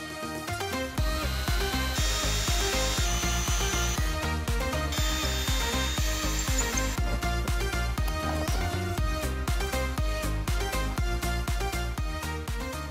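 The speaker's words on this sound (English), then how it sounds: "and started drilling holes." A power drill bores holes through a stack of A3 paper, the motor whirring loudly in repeated rhythmic bursts and pulses, alone and close up for the whole stretch.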